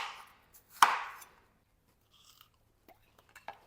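A knife cuts a watermelon in half with one sharp, crisp crunch, followed by a few faint taps and rustles in an otherwise quiet kitchen.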